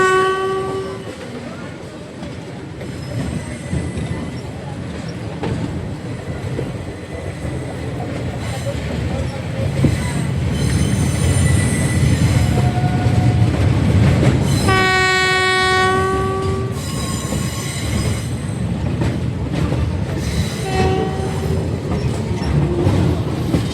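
A passenger train, number 19571 on the Jetalsar to Porbandar run, pulls in with a steady rolling rumble, and several loud, sustained horn blasts sound over it at intervals.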